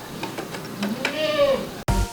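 A goat on a milking stand gives a close, wavering bleat, with soft taps and shuffling before it and a thump just after.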